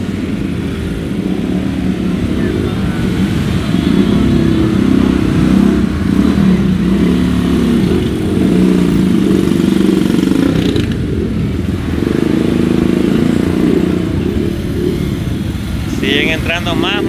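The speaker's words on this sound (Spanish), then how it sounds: "Siguen entrando más motocicletas acá, a la zona de Punta Roca." A group of motorcycles rolls into the Punta Roca area of El Salvador during a costumed Halloween group ride. Engines rumble continuously and loudly at mid distance, with a crowd of voices talking throughout.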